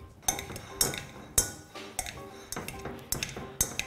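A metal masher works through freshly boiled potatoes in a bowl, clinking and tapping against the sides in an irregular rhythm of about a dozen close, crisp knocks.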